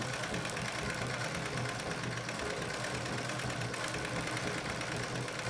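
A Pfaff 230 sewing machine doing free-motion quilting on a quilted bag, a steady fast mechanical whirring and knocking that runs loud and unbroken throughout, with no voices.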